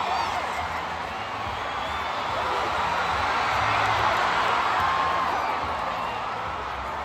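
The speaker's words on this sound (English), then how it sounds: "the crowd engaging in the wave all the way around" A stadium crowd at a Levi's Stadium country concert does the wave, a broad, steady roar of many distant voices that swells gently and fades over several seconds.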